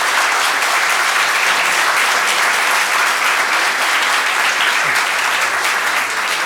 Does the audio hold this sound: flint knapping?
no